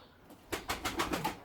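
A female Maya müseccem frilled pigeon flaps its wings in a quick series of soft, broadband beats, close and moderately loud, after a brief quiet start; any cooing is not distinct.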